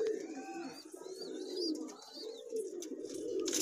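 A flock of 70-80 Rampuri Kalanch pigeons coo repeatedly in low, throaty rolls, with a few higher chirps from other birds mixed in nearby.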